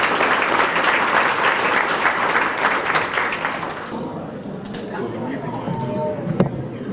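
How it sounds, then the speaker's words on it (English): Loud, sustained applause from a banquet audience fills the room, dense clapping for about four seconds before thinning into scattered claps and murmuring chatter. "let's give them a round of applause"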